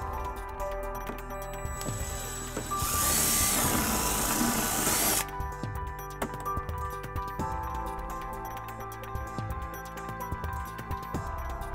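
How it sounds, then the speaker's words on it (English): Power tool driving screws with a 10 mm socket while fitting a trailer wiring harness bracket on a 2006 Honda Pilot; a loud burst of whirring in the middle, with quieter clicks and handling noises before and after. "we'll tighten up our screws using a 10 millimeter socket"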